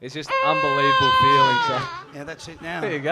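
A voice imitates a baby's long, wailing cry in a TV studio, then breaks into ordinary talk with other voices.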